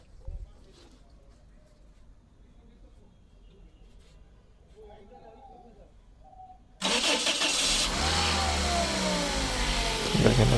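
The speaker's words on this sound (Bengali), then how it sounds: "দেখেন আমরা গাড়িটা স্টার্ট করব" A Toyota Hiace with a 2000cc VVT-i engine, converted to CNG, cranks briefly and catches. It then settles into a loud, steady idle up close, after quiet rustling with no speech.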